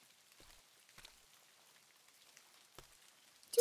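Sparse, faint raindrops fall on a surface, scattered single ticks and taps over near silence, ending with a louder sound.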